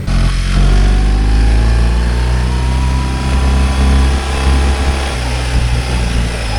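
A BMW R 1250 GS boxer twin motorcycle engine runs steadily and loud throughout, a low throbbing drone with no speech over it.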